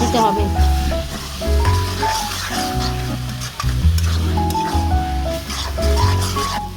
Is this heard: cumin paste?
yes